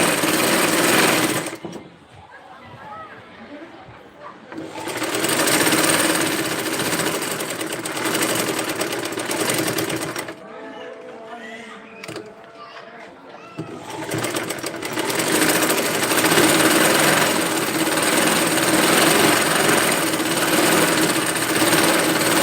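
A sewing machine double-stitches trouser seams in steady, loud runs of rapid stitching. Two short pauses break the runs, and the whirring fills most of the recording.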